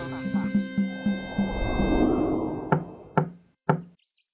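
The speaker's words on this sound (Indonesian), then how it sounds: "Terdengar suara ketukan pintu." Three sharp knocks on a wooden door ring out close and loud in quick succession, following a softer stretch of background sound.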